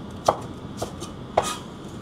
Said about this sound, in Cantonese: 我而家咧就係切一啲咧